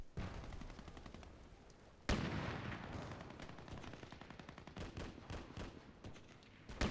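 Gunfire in the video game Black Ops 2, rapid close bursts of automatic rifle shots that keep firing, with a sharp louder volley partway through and a steady crackle of shots after it.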